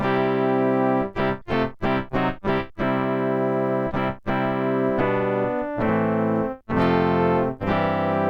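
Bright synthesized brass chords from a 1988 Amstrad CKX100 electronic keyboard's brass preset, held notes broken by quick staccato stabs, loud and close with a slightly chorused, buzzy tone.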